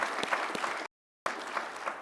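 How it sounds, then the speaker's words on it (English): Crowd applause at a city's State of the City address, a steady dense clapping broken by a brief silent gap before resuming at the same level. "a round of applause for Clay."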